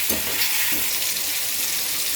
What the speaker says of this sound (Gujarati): ટમેટા આપણે એકદમ ગળી જાય ત્યાં સુધી આને તેલમાં એકદમ ચડવા દઈશું